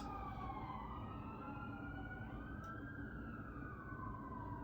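Wailing emergency sirens in New York City rise and fall over a steady city rumble, heard at some distance from indoors, overlapping tones sweeping up and down throughout.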